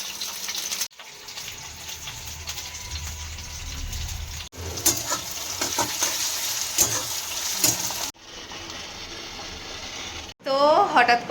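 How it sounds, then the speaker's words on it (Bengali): Food frying in a pan at home, a steady sizzle running through most of the stretch with brief breaks, and a voice talking over part of it. "রান্না চলছে।"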